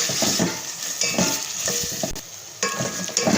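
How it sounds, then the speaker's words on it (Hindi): Green masala sizzles in hot oil for mutton pulao while a spoon stirs it, giving a steady crackling fry broken by repeated scraping strokes against the pan, close and fairly loud. "ऑयल और हरा मसाला जो है वो ऐड करके हम मिक्स करेंगे इसे।"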